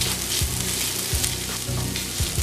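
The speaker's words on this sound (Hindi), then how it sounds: "फ्यू सेकंड अदरक और लहसुन को सौते कर लेंगे।" Ginger and garlic paste sautéing in a pan over a medium flame for a soya keema matar curry, a steady close sizzle and fry with a few soft stirring scrapes, no talking.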